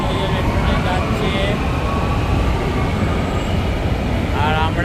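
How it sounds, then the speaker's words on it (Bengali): A metro train runs through a station with a steady rumbling roar and some faint squealing near the end, while people talk throughout. "এই দেখুন ট্রেনে, মেট্রো ট্রেন, ওই যে মেট্রো ট্রেন যাচ্ছে"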